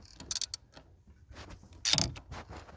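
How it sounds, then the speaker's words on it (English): Screws being tightened by hand into an aluminum housing while fitting a new ignition control module on a Buick 3800 V6, heard as soft clicks and creaks with a couple of brief sharper ratchet-like bursts, close up and fairly quiet. "we don't want to tighten these too far because it's aluminum you're tightening it into"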